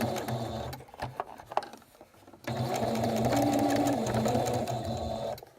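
A sewing machine stitches through the layers of a pinwheel quilt, first in short stop-start bursts and then in a long, steady mechanical whir. The machine is close and fairly quiet, with no talking.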